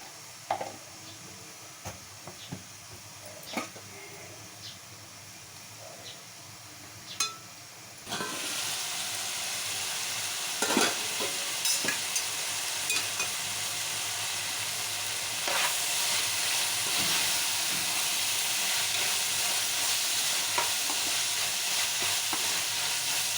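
Sliced beans sizzle in hot oil for a potato curry, soft crackling at first, then a loud steady frying hiss as more goes into the pan, with occasional stirring clinks over the constant sizzle.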